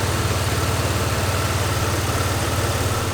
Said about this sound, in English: So we have a rebuilt engine.